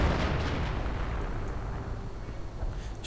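Artillery fire in a WWII strategy video game, heard as a dense, continuous low rumble of booming impacts and blasts that rolls on steadily throughout without any talk.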